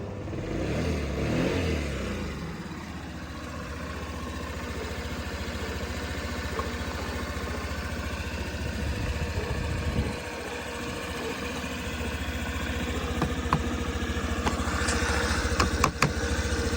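A 2017 Honda Benly AA05 four-stroke fuel-injected scooter engine idles steadily for the whole stretch, a close, droning putter with faint clicks and rattles near the end; a faulty side-stand switch keeps it from revving.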